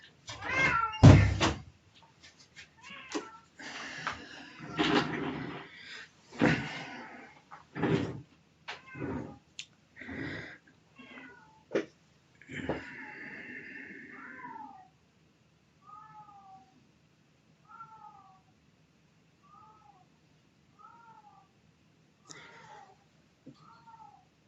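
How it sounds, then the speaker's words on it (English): A cat meows repeatedly in a quiet room during a lecture recording, with thumps and knocking early on, then a run of short, evenly spaced meows fading toward the end. "We have a cat in the room, so just bear with me."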